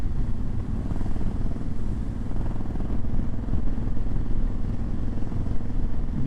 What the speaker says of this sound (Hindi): जब मैं मोटरसाइकिल खींचता हूँ ना तो काफ़ी शोर करता है